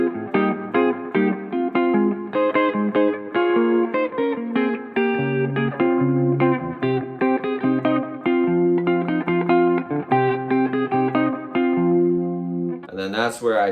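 An electric guitar run through effects such as distortion, chorus and reverb plays the riff from a song slowly, with a steady stream of sustained, layered notes and a brief burst of brighter noise at the end.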